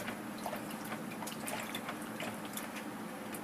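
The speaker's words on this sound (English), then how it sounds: "Rinse off the brush." A paintbrush swished and rinsed in a water jar during a painting session, a steady soft sloshing and trickling with faint clinks, close and continuous, with no talk.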